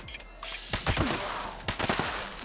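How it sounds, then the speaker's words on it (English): Headshots from a bloodied explosive Fixer rifle in Fallout 76 crack out in two sharp bursts, each a loud report with an explosive tail, the second about a second after the first, over quiet game ambience. "We'll take a couple of headshots here"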